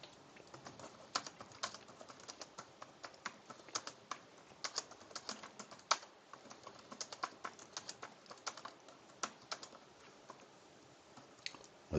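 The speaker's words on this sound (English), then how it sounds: "I'm going to type it while I'm watching." Someone types a question into ChatGPT on a computer keyboard, producing a steady run of quick, light key clicks with irregular rhythm and occasional sharper taps, fairly close and quiet, with no talking.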